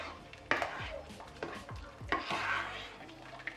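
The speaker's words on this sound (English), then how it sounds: "And I'm going to pop a bit of cayenne pepper in there. And then I'm going to stir it." Seafood boil sauce with cayenne pepper and a dash of Maggi seasoning is stirred in a pot. Several sharp scrapes and knocks of the spoon come over a low, continuous sizzle, with no voices.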